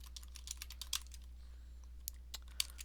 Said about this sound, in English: I'm just going to type this in here so it's a bit easier to type out than it is to completely write out by hand